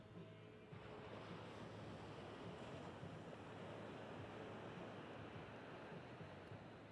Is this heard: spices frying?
no